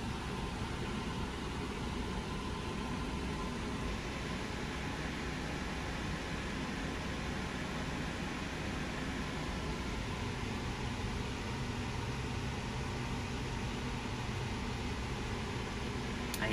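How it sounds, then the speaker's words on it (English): Steady broadband whoosh of electric fans running indoors near a Nepenthes burbidgeae pitcher plant, a constant even hiss filling the whole stretch at moderate level with no other sounds. "I apologize for the noise, the fans are running."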